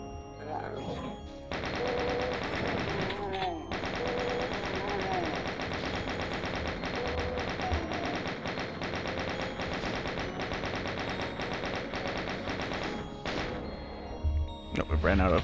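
Chaingunners in Doom 2 unleash rapid, sustained machine-gun fire that rattles almost continuously through most of the stretch, loud and close, with someone talking over parts of it.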